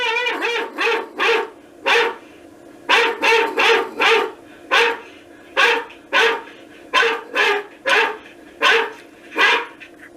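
Sound effect of a model junkyard dog on an N scale model railway layout, a string of sharp, loud barks in irregular bursts, clear and close with no talking.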